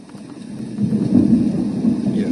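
Rain with rumbling thunder from a Douni white noise machine for babies, a steady wash of rainfall under a low rolling rumble that swells partway through.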